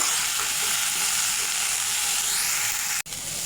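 Eggplant pieces frying in oil in a pan, giving a constant, close crackling sizzle with faint stirring scrapes and a momentary break near the end; nobody speaks.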